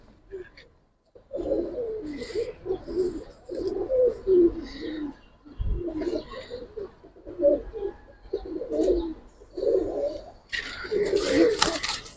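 Giribaz and coloured pigeons, including laddu-headed birds, coo in a steady run of soft, low calls, with someone talking over much of it and a brighter burst of noise near the end.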